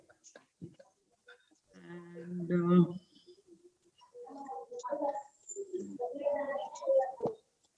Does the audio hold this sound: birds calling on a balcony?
yes